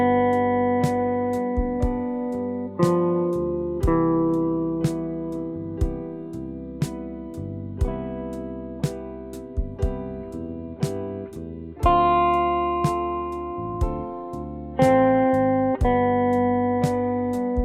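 A guitar backing track plays steadily, with strummed chords striking in a regular rhythm and harmonic tones sustaining between the hits, clear and fairly loud with no talking.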